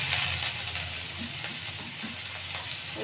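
Chopped onion frying in a little oil in a wok, a steady close sizzle with faint stirring scrapes running alone throughout.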